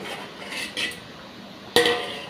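A metal lid closing on a pot of raw banana sambar, with a few soft clinks followed by one sharp, ringing clatter near the end, close by and with no talking.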